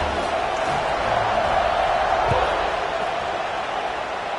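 A college football stadium crowd at an Arizona versus Washington game roars in a dense, continuous wash at kickoff, loud and steady throughout, with a brief thump partway through.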